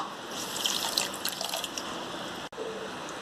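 Water pours steadily into a pan for homemade corn syrup made with sugar, a close, splashing trickle that runs for several seconds. It cuts off with a brief click and then resumes more quietly.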